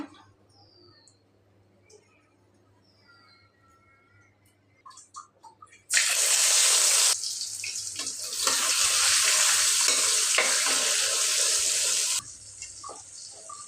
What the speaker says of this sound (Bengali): এখানে আমি কিছু মাছ হলুদ মরিচ লবণ সামান্য একটু তেল দিয়ে মেখে এখন ভেজে নিচ্ছি